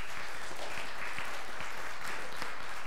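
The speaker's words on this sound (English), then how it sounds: "Can we give them a big round of applause?" Church congregation applauding during a Sunday morning worship service, a dense, even round of clapping from many hands throughout, with no voices over it.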